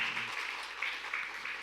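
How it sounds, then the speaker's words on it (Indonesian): A church congregation applauds during a worship service, a brief, fairly quiet wash of clapping from many hands with no clear rhythm. "Tepuk tangan bagi Allah kita."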